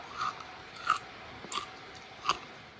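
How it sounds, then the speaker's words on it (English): A crunchy carnivore bar made of beef and tallow is bitten and chewed up close: four distinct crisp crunches spaced about two-thirds of a second apart, with soft mouth sounds between them and no talk. "When you bite into it, there is quite a crunch"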